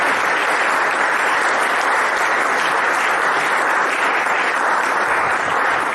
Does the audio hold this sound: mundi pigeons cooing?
no